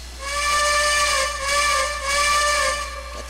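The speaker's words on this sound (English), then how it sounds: "Got the primary whistle." Primary steam whistle of a Reading Camelback locomotive in the Trainz game blows one long, loud, steady chord that dips briefly twice before it cuts off, heard alone with no talking.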